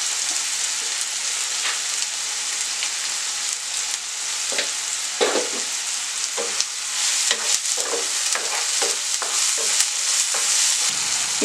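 Chopped tomato with salt being sautéed in a hot pan for a spinach tofu paneer curry, a steady close sizzle broken by repeated scraping and stirring strokes, with no voices.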